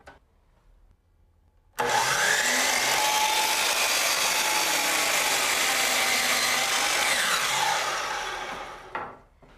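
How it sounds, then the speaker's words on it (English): A power miter saw tilted to 45 degrees cuts through crown molding, a loud continuous whining buzz that starts abruptly after a quiet moment, holds steady for about seven seconds, then winds down. "So now when I turn my saw or tilt it to 45 degrees, I can make my cut."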